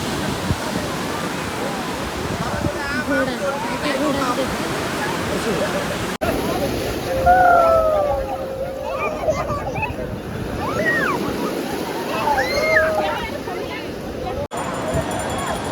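Ocean surf rolls steadily onto the shore at Puri, a continuous loud wash with wind noise, while voices chatter nearby and some brief squeaky sounds cut in.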